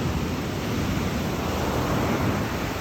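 Ocean surf washing onto a beach on the coastline in Ghana, a steady broadband roar of waves that fills the whole stretch without a break, with some wind noise on the microphone.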